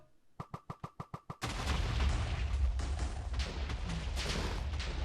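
Spiral TNT in Minecraft detonating as a rapid string of eight sharp blasts, followed by a loud, sustained roaring rumble of continuous explosions that carries on to the end.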